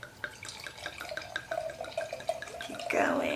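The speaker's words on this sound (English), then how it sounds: "My trusty wine glass and pour." Wine pours from a bottle into a wine glass in a quick trickling, gurgling stream, close and fairly quiet, ending in a brief fuller splash.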